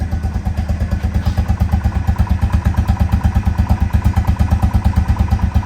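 A Yamaha UTV engine idles steadily with a loud, close, even rhythmic chug and a faint mechanical clatter, running alone without talk.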